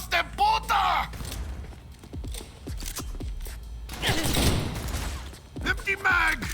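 Gunfire in the video game Cyberpunk 2077, bursts of rapid shots and impacts recurring through the clip, loud and up close, with a player talking over and between the shots.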